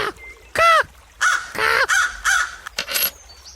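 A bird calling with a series of loud, harsh, crow-like caws in uneven bursts, close by and with no talking.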